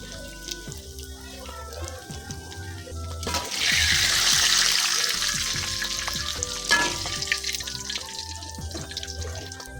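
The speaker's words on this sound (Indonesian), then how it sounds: "Goreng terinya nanti juga sampai garing ya." Large anchovies, washed clean, fry in hot oil until crispy, giving a loud steady sizzle with bubbling bursts and occasional stirring, close up and without talk.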